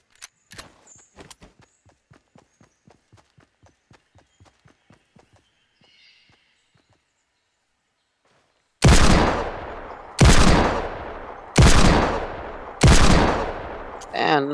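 Gunfire in Fortnite Battle Royale: after a run of soft, evenly paced footsteps and near silence, four loud, sharp shots ring out about a second and a half apart, each trailing off with a short decay.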